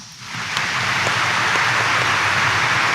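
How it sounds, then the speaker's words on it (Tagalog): A church congregation at Quiapo Church applauding loudly during an early morning Mass, a steady, full wash of clapping that swells in quickly and holds throughout. "pumalakpak ng mas malakas"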